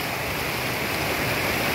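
Floodwater of the Kapili river rushing along near the Kampur to Kathiatoli road, a steady loud broadband roar of flowing water that continues unbroken with no voices.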